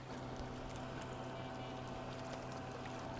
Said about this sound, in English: there's a boat coming by